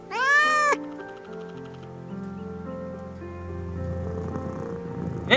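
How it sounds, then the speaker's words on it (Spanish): A cat in the Haru video game demo gives one clear, loud meow up front, followed by a softer musical game ambience with faint rain-like texture underneath. "Saludito, hay un gatito."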